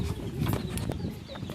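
A chicken clucks nearby in a few short, choppy bursts over a faint background murmur of rural household noise.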